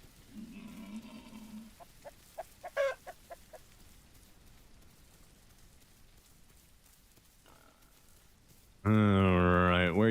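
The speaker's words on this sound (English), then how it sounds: "I heard you over here." A chicken clucks and squawks in The Isle Evrima game, a few short clucking calls followed by a run of sharp staccato clucks, then a loud sustained animal cry near the end, with quiet ambience between.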